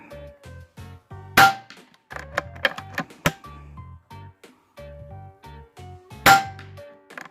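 A .22 air rifle firing pellets at an outdoor range sounds as two sharp, loud cracks several seconds apart, over a steady background of tonal music.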